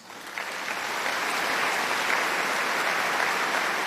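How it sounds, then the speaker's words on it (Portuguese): Congregation applauding priests concelebrating a Catholic Mass, a steady dense wash of clapping that swells in after a brief start and holds at an even level throughout, with no voices over it. "eles merecem uma salva de palmas"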